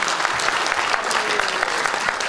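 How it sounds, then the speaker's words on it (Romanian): A steady burst of audience applause at a folk dance show in a culture house in Mangalia, dense and even throughout, with many hands clapping at once. "Aplaudați, vă rog frumos,"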